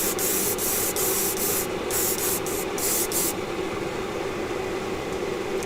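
Airbrush spraying yacht varnish in a steady, close, loud hiss of compressed air, with brief gaps early on where the spray cuts in and out before a continuous flow settles in.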